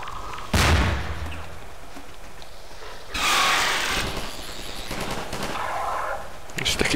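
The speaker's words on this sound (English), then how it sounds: "Oh, grenade!" A grenade exploding amid gunfire in Half-Life 2, with a sharp loud blast early, then a second burst of crackling, roaring noise and scattered shots, and a voice speaking at points.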